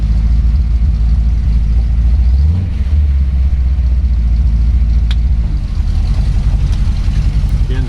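A 1932 Ford three-window coupe with a Ford 351 Windsor V8 of 408 cubic inches and a 700R4 automatic rumbles steadily as it drives, a deep, loud, continuous engine drone with slight swells, heard close from inside the car.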